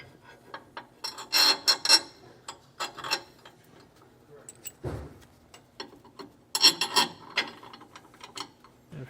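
A 15 mm socket on a ratchet running up a carriage bolt on an RV helper-spring bracket, giving quick bursts of close, crisp ratcheting clicks with pauses between them and a brief thump partway through.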